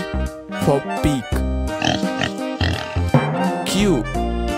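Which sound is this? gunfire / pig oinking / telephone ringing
pig oinking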